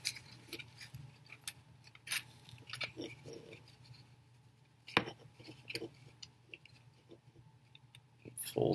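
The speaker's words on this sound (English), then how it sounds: "Fold down the ends of the brad clip." Ends of a brad clip being folded down on a Micro:bit fish craft: a close sequence of small, sharp metallic clicks and taps with light handling rustles between them, no talking.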